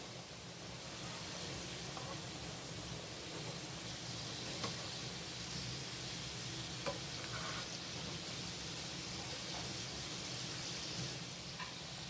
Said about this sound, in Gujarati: સમોસા આપણે ધીમા તાપે તળવાના છે, જેથી તે અંદર પણ ચડી જાય.